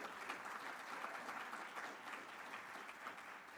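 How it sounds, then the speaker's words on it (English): Audience applause at a summit breakfast, sustained dense clapping from many hands, fairly distant and even throughout. "Give that an applause."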